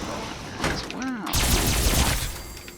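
Cryo Alien Blaster fire in Fallout 76, a rapid run of energy shots with small bursting explosions, loud and close, with a whooping zap in the middle and a dense volley toward the end.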